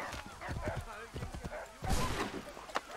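Horse hooves clip-clopping in Assassin's Creed III, a quick irregular run of hoofbeats under someone talking in Spanish, with a sharper thump near the end.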